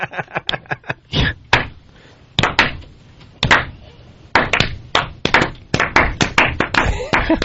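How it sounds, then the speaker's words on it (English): A studio audience breaks into slow applause, scattered individual claps at first that gradually bunch and sync into a rhythmic clapping run, close and fairly loud. "Did you get the slow applause break?"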